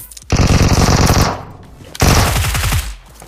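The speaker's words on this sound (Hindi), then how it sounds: "गोलियां चल रही है, मेरे पे आ जाओ।" Rapid machine-gun bursts in PUBG, close and loud, two long strings of fast automatic fire separated by a brief lull.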